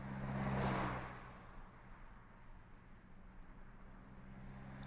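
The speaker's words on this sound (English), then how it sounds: "I hear cars." Car traffic moving along a street, one vehicle swelling loudly past in the first second, then a steady low engine rumble and road hiss from passing cars at middle distance.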